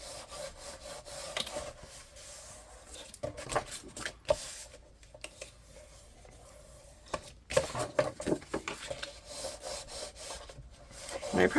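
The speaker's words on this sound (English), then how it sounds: "And burnish down that page side" Rubbing and burnishing strokes on a paper page of a handmade wedding album, a soft scratchy friction sound in uneven bursts across the clip, fairly quiet and close.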